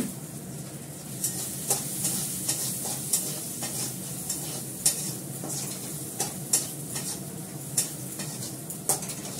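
Onion, cumin and asafoetida fry in a pan over raised heat, giving a steady sizzle with regular sharp clinks from a spoon stirring against the metal.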